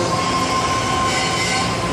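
A San Francisco metro train arriving at a station, a loud, steady rush of wheels on rails with a faint high squeal running through it, heard close and continuous.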